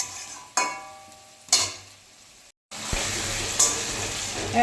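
Curry sautéing in hot oil in a pan, a soft continuous sizzle broken by a few sharp scraping clanks of a spoon stirring, with one brief dropout before the frying resumes louder.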